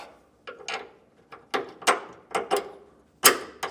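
A bolt slides through a mounting hole on a Roadmaster rear anti-sway bar fitted to a 2020 Jayco Melbourne motorhome. A series of short, close metallic clicks and clunks come in uneven bursts.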